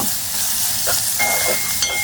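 Dried shrimp with turmeric and salt fry in a pan with a loud, continuous hissing sizzle, joined by a few soft stirring scrapes up close.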